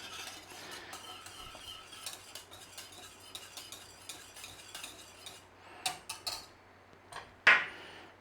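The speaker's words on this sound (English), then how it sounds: "Stir it in," A spoon works through bechamel white sauce seasoned with nutmeg in a pan, giving soft, irregular stirring scrapes and light taps against the metal, quiet at first, then a few sharper clinks near the end.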